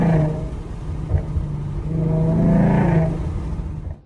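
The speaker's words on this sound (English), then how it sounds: "car sounds so good in here." A Mustang engine hums and revs at Darlington Raceway, a steady mid-level drone that swells briefly in the middle before fading, with no speech over it.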